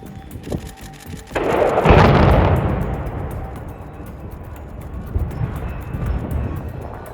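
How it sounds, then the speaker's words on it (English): Explosive charges of 120 kilograms bring down the 500-metre-long, 70-metre-high Rinsdorf Viaduct on Highway 45, a sharp crack then a loud, deep, rolling rumble of collapse that slowly fades, heard from a distance with no talk. "120 kilograms of explosives successfully brought down the 500-meter-long and 70-meter-high Rinsdorf Viaduct on Highway 45"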